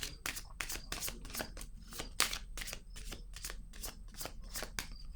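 Tarot cards are shuffled and laid down in a steady run of crisp, rapid riffling and snapping bursts, close and fairly loud, with no one speaking.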